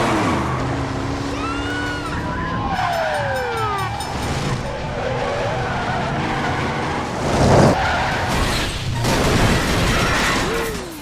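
Movie car chase with cars skidding hard: loud, repeated tire squeals sweep up and down over a steady roar of engines, with a heavier crunching burst near the middle and continuous close, intense noise throughout.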